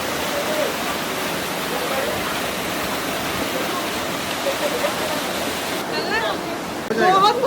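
Cold mountain stream water rushes toward a waterfall near Bir Billing in a loud, steady wash, with voices breaking in close toward the end.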